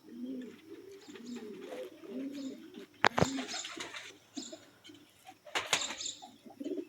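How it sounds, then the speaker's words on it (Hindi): Breeder pigeons coo softly in repeated low throaty phrases, joined by a few sharp clicks and brief rustles, close by with no speech. "ये एक और कबूतर चेक करें, ये जोड़ा चेक करें।"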